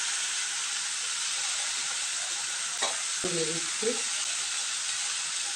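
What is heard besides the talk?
frying mustard spice paste in a pan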